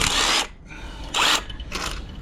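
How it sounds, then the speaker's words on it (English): An impact wrench works on the clutch of a Mini R53, firing three loud, close, rattling bursts with short pauses between them, and no one talks. "And now hopefully I can go back to the impact wrench."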